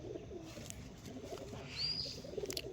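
Kalanka and Abluk pigeons kept at a home loft coo in low, repeated murmurs, with a few sharper chirps over a steady background hum and no speech.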